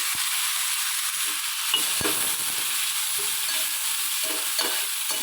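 Ash gourd with turmeric powder and salt sizzles and fries in a pan. A steady hiss runs throughout, with a few soft stirring scrapes.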